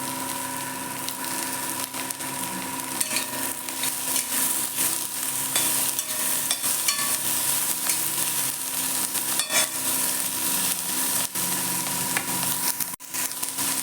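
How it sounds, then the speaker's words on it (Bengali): Cauliflower pieces frying with onion, garlic, ginger and chilli in a pan for paratha filling, a steady close hissing sizzle with scattered spoon scrapes and small clicks, no talking, a brief dropout near the end. "আমি কপিগুলো দিয়ে দিলাম।"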